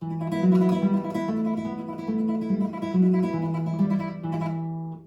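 A plucked string instrument sustains notes through rapid repeated plucking, producing a shimmering continuous tremolo melody that shifts pitch a few times.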